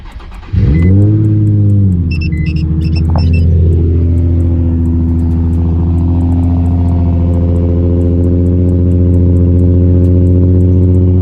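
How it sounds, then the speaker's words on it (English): A Nissan 350Z engine cranks on a cold start and fires up with a loud roaring burst, then settles into a deep, steady rumbling idle close by. "So let's get this cold start."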